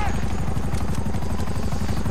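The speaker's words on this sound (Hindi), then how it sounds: "कहाँ पर है यार हेलीकॉप्टर?" Helicopter in GTA 5 with a loud, close rotor whir, fast regular blade chops beating continuously over the engine drone throughout.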